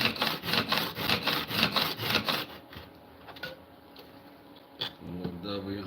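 The bevel of a Japanese-style plane blade is rubbed rhythmically on a coarse 200-grit sharpening stone, with about nine steady back-and-forth strokes, close and clear, followed by quieter handling sounds and a short clack.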